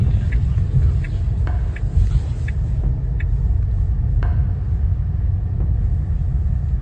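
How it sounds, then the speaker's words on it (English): Many cars rumble past in a steady, loud, continuous roar of traffic with a few faint clicks on top and no voices. "A lot of cars."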